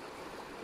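A shallow, clear river rushing steadily over stones, a dense continuous wash of water close by with no voices.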